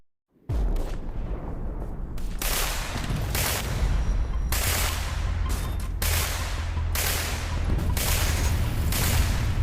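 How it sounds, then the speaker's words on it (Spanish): A loud, rumbling series of blasts and bursts, repeating every second or so over a continuous heavy roar, with no voices. "una serie de explosiones se hace escuchar en la superficie, haciendo retumbar al cuartel"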